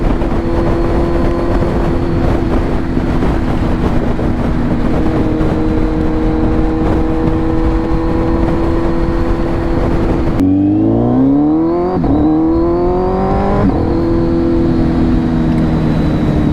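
A Kawasaki Z900 motorcycle fitted with a LeoVince full exhaust drones steadily at about 5,000 RPM in sixth gear at highway speed, with heavy wind rush. Partway through, the engine pitch drops and then rises again in distinct steps.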